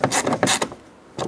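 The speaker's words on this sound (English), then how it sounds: "so that you can now put in the Phillips head screw" A Phillips head screw being tightened into the plastic door bezel of a 2011-2018 Ram 2500, heard as close, loud bursts of ratcheting, squeaky screwdriver turns separated by short pauses.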